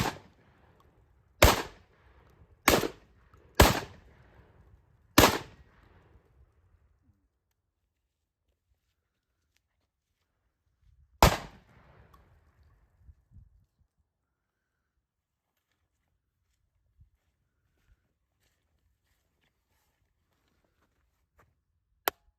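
A Beretta 1301 shotgun firing at a box outdoors: four sharp loud blasts in quick uneven succession, a fifth after a pause, then another shot several seconds later, followed by near silence with a faint click.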